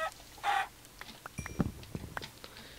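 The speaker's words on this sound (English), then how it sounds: "Okay, kill this chicken." Chicken clucks from a survival video game, a few brief soft clucks and scratchy sounds scattered after a short burst of noise, faint and without talk.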